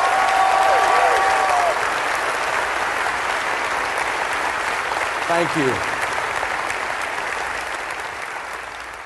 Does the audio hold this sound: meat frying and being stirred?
no